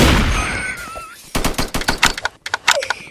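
Shotgun blasts from a video game match, a rapid series of sharp, loud bangs in uneven rhythm following a brief stretch of muffled game noise.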